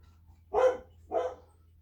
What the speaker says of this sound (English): Could you stop barking?